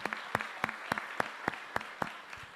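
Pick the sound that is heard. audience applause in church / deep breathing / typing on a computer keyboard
audience applause in church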